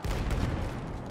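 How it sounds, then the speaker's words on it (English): A flare is fired in Battlefield 1, making a single loud, dense blast that holds as a rough burst of noise for about a second before fading slightly. "I'm gonna shoot a flare outside."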